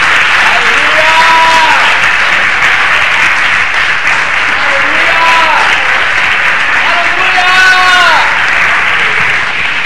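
Church congregation applauding Jesus Christ during a worship service, a dense, steady roar of clapping that fills the whole stretch, with bright singing or voice-like tones rising through it.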